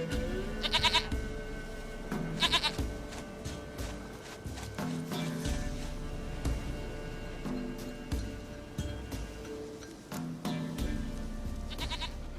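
Repeated goat bleats in The Witcher 3 come in short, separated bursts over a busy low game ambience, with a few hoof-like clops and no speech.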